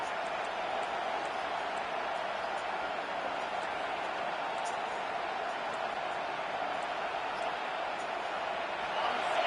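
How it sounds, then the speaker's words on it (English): A steady, roaring stadium crowd fills a College Football 26 game between Oregon and Ohio State. The wide wash of noise holds constant and swells slightly at the end. "Decibels rising as the crowd gets behind this defense on third down."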